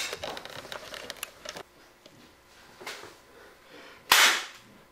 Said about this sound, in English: That was the stunt gun.